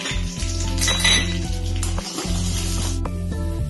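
Peanuts and dried red chillies fry in oil in a pan with a loud, constant sizzle, while utensils repeatedly scrape and clink against the metal as the ingredients are stirred close up.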